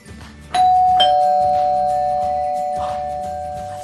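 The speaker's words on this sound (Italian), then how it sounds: "Suona il campanello." An indoor doorbell in a children's programme rings clearly with a two-tone ding-dong. The first bright chime is followed by a second note, and the ring slowly fades and sustains over a quiet background.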